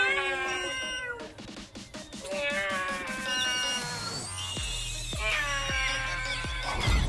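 A cat meows and caterwauls repeatedly in long, wavering cries with growling undertones, close and fairly loud, with a series of rhythmic low thumps partway through.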